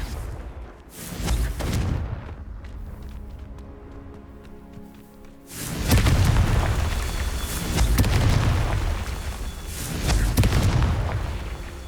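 Confringo fire-blast spells burst in Hogwarts Legacy gameplay, a deep booming explosion that rolls out, a quieter stretch, then heavier rumbling blasts surging loudly through the latter half.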